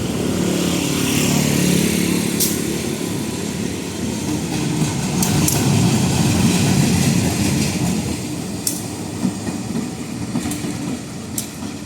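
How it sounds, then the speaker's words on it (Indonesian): A locomotive shunting at Purwakarta railway station, with a loud continuous diesel rumble and rolling noise alongside occasional sharp metallic clanks nearby. "proses langsir lokomotif dari kereta 326 komuter lain Walahar"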